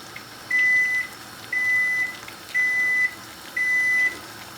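Kitchen timer beeps four times in an even rhythm, each a steady single-pitch tone about half a second long, over quiet background noise while noodles boil.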